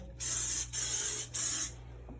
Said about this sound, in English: So I'm just going to go ahead and spray everything with this Lysol